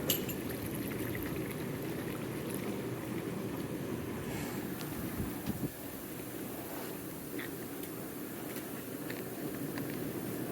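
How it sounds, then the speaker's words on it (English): Hot tub jets churn and bubble as purge cleaner circulates through the plumbing, a steady, dense rush of water and air that continues without pause, close to the microphone. "Make sure the jets are bubbling."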